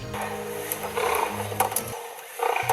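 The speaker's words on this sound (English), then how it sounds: "When giant river otters get upset, they begin to snort, bark, and make chattering noises like an angry typewriter." Agitated giant river otters on a Pantanal riverbank, upset by a nearby jaguar, give rapid snorting and rattling, typewriter-like chatter mixed with rough barks, loud and dense against a noisy outdoor background.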